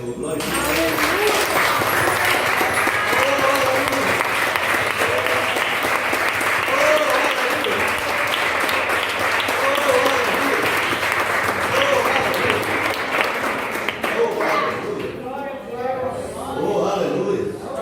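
A church congregation at an evangelistic service claps loudly and continuously, while voices speak and call out over the applause, which thins slightly near the end.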